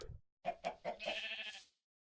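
A sheep in the video game Minecraft gives a short, faint bleat, a quick run of wavering cries lasting under two seconds with no talking.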